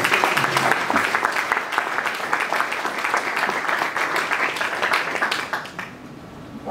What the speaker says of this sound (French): Permettez-nous de vous demander d'applaudir très vivement les premiers ministres